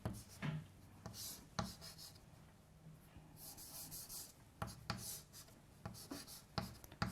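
Chalk or marker strokes scratch and tap on a board during a finite element lecture, with irregular bursts of writing and pauses, close and fairly quiet.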